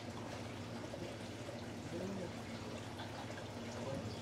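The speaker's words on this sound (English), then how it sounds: "the water comes back in there from the beds" Steady, continuous splashing of water running back from sandponics grow beds into a tank, a gentle trickle with a faint murmur of voices in the background.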